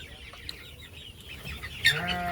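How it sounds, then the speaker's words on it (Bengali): Several chickens cluck nearby in scattered bursts, with a louder hen call rising toward the end. "আমার ভাই জীবন জীবন মুরগিগুলোকে প্রতিদিন পানি দেয়"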